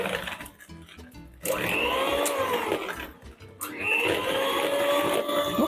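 An electric hand mixer whisks batter in two long bursts separated by a short pause, steady and close, with a rising-and-falling motor whine and no talking.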